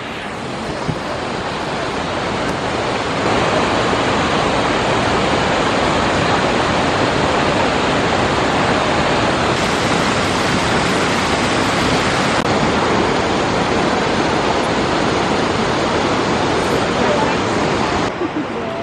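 A waterfall near a monastery in Dharamshala roars as a loud, steady rush of broadband water noise that continues unbroken throughout, with no clear voices over it.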